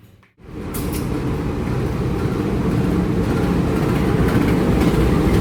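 Interior of a Bandung Raya commuter train running between Cimindi and Cimekar stations, a steady loud low rumble of wheels and motors after a brief quiet start, continuous with no talk.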